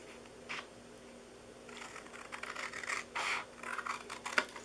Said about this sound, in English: I'm going to cut off the top of this middle one here too.